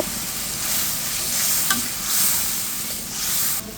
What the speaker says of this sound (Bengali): শুটকি মাছটা দিয়ে দিয়েছি এর ভিতরে জল দিয়ে খুব সুন্দর করে কষিয়ে নেব